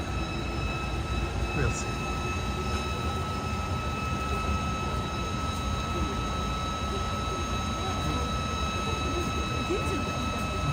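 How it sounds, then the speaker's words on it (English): A train rumbles past steadily in Tokyo near Ueno and Asakusa in the evening, a continuous broad roar with faint wheel squeal, while someone speaks briefly over it. "I'm kind of waiting here for a train to pass."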